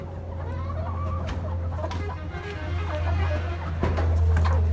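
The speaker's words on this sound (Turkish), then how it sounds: "Bayağı bir tavuğumuz var." Chickens cluck steadily throughout, with scattered sharper calls from several birds over a constant low hum.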